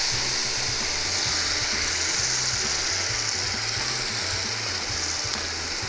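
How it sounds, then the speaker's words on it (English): Puréed vegetables sizzle steadily in a hot pan over chicken drippings for a chicken and rice dish, a continuous close frying hiss with low bubbling underneath and no talking. "we're gonna take our vegetables that we whizzed up earlier, and they're going right in here"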